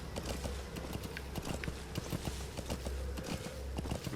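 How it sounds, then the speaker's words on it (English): Video game horse galloping in Metal Gear Solid V, rapid rhythmic hoof clip-clops close by over a low rumbling background, steady across the stretch. "I think it's just a horse driving by, or galloping by."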